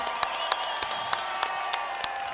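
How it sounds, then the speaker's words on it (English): Sparse applause from a crowd at a fight event, a steady patter of clapping with a few sharper individual claps standing out at regular intervals. "Let's give them a nice round of applause."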